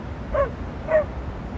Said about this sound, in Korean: 근데 옆에 강아지가 엄청